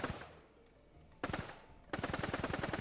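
Gunfire with recoil in a self-made retro online FPS game: a few scattered shots, then a sharp burst, then a fast, steady automatic string of loud, evenly spaced rounds.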